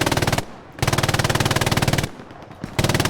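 Sustained machine gun fire in a multiplayer video game battle, rapid evenly spaced bursts that are loud and close, broken by two short pauses before firing resumes.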